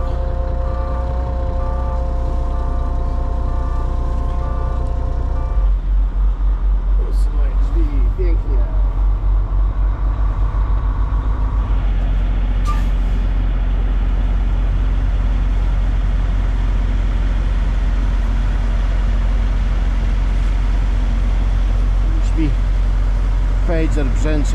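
A truck engine idles with a deep, steady low rumble that shifts partway through, then holds a constant drone during winter unloading at a ramp, while a voice talks over it.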